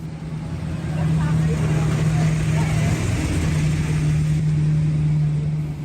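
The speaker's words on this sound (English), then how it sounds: "The sound of classic car engines arriving at the hospital could be heard outside of Onvida Health" Classic car engines rumble steadily outside Onvida Health hospital as a parade of vintage cars arrives, a continuous low drone with a sustained tone, loud and close throughout.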